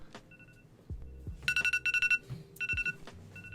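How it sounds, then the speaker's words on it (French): An alarm clock rings in bursts of rapid electronic beeps, two clusters of pulsing tones heard fairly faint over a quiet background with scattered thumps. "Non mais c'est le son du réveil qui est horrible."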